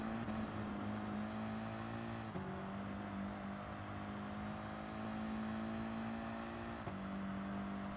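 Race car engine in Gran Turismo Sport on the Dragon Trail Seaside circuit, a steady high-pitched drone that holds its pitch, shifts briefly about two seconds in, and shifts again near the end, continuous and without talk.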